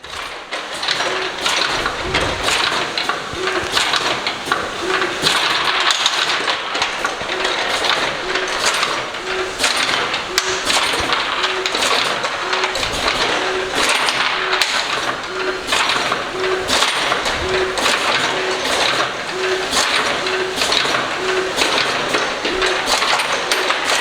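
An automatic sorting machine handles 18650 battery cells, giving a steady run of regular mechanical ticks and clicks over a continuous whirring hum.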